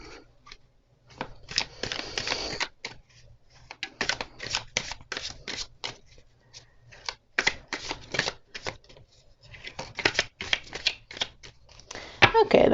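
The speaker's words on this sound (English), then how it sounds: "So let's get to shuffling to see what this week has in store for us all." Tarot cards being shuffled by hand in repeated bursts of crisp riffling and flicking, close and fairly soft, with short pauses between runs and a faint low hum underneath.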